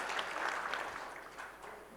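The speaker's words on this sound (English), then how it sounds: "Let's have a round of applause for Mr. Humagain, please." An audience at a seminar on advertising policy gives a round of applause for a guest, a steady wash of moderate clapping throughout.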